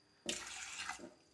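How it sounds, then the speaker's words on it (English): Water poured into a pressure cooker in a village kitchen: a short, close splashing pour that runs for under a second, then a brief trickle as it tails off. "I'm going to pour little bit of water into the pressure cooker"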